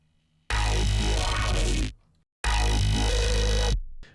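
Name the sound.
synthesized growl bass sound design sample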